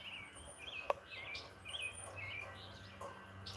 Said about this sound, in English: I feel like the birds just started chirping again.